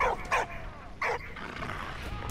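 A dog in the video game Valiant Hearts gives a few short, sharp barks and yips close by, with a low rumble continuing between them.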